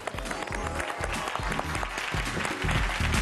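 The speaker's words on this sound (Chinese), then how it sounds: "我们掌声欢迎啊" A studio audience at a health television programme claps to welcome two models on stage: a steady wash of applause from many hands, with low thumps and a rise in level near the end.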